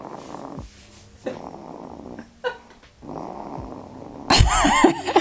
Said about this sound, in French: Elle ronfle comme sa mère.